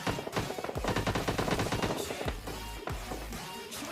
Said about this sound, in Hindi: उस तरफ आपको मिनी मैप में दिख रहा होगा कुछ बंदे फायरिंग कर रहे हैं